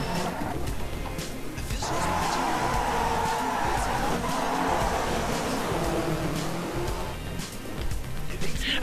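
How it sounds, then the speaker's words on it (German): Rally car drifting through a corner in DiRT 3, a steady engine drone under a long sustained tire skid squeal, loud and continuous throughout with a brief dip near the end. "Jetzt kommt der beste Drift."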